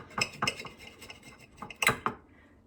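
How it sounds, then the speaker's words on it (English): A serrated knife saws through the edge of a loaf of funfetti banana bread. Close, scratchy strokes and light knocks against a board come in uneven bursts, with clinking of the blade between cuts. "I have a serrated knife. I don't really like the edges, so I'm going to cut the edge."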